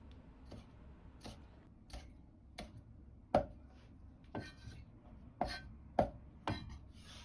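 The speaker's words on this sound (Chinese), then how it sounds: "大蒜2颗切成蒜片" Knife slicing two garlic cloves into thin slices on a cutting board, about a dozen crisp separate chops in an uneven rhythm, close and quiet with no talking.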